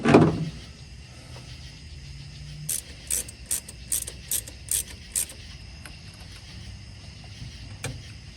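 Screw being backed out of a fuel line fitting, heard as a steady series of about eight faint, evenly spaced ratcheting clicks after a louder knock at the start, close by in a quiet space.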